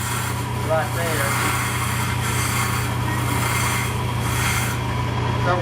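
A skew chisel cuts wood spinning on a lathe, a steady low motor hum under a continuous scraping rasp, close and fairly loud, with light irregular ticks from the cut.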